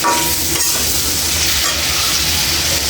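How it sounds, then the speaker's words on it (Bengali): Potatoes with salt and turmeric fry in a hot pan, giving a loud, dense, continuous sizzle close up with no talking. "দিয়ে আলুটা ভালো করে ভেজে নেব"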